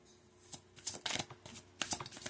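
Tarot cards are shuffled in a quick series of crisp riffles and soft slaps, close and fairly quiet, with no talking.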